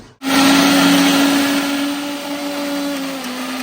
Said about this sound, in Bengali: যেই মশলাগুলো দিলাম মিক্সির মধ্যে এটাকে স্মুথ পেস্ট করে নিতে হবে